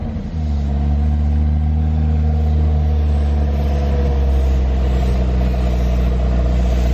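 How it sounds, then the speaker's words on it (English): A McLaren 675 LT engine holds a loud, steady high-rev drone after a brief initial surge, a continuous close-up roar with no voices. "Sounds more like a 675 LT to me."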